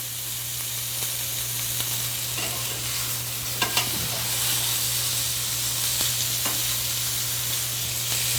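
Steak searing in a hot pan, a steady close sizzle and hiss with occasional pops and spatter, a low hum underneath and no talking.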